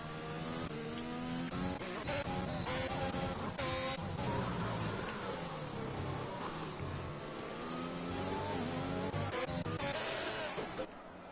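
Formula 1 race car engines from a video game race at Imola, a continuous loud high revving drone with shifting pitch and gear changes, several cars overlapping throughout under faint commentary.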